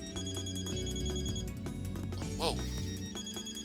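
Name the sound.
cell phone vibrating on a desk in a video game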